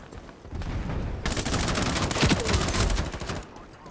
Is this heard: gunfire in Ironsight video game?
yes